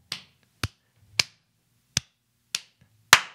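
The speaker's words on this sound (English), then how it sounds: "Well, we need the claps to sync." Six sharp hand claps, used to sync a podcast recording, crack out close and loud at uneven intervals against near silence, the last one the strongest.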